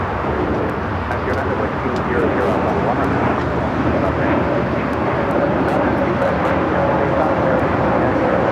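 A jet airliner taxis at Los Angeles LAX, a loud steady engine rumble and whine that builds gradually, with a voice talking over it.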